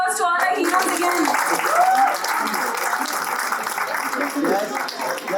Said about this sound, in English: a round of applause to all our heroes again